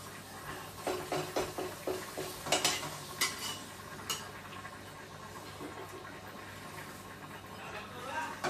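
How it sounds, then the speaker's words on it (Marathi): Papad frying in hot oil in a home kitchen gives a faint, soft sizzle. Light tapping and stirring clicks from utensils run through the middle of the stretch. "तळून घेऊ आपण पापड. तर हा पहिला पापड तेल टाकलेला आहे."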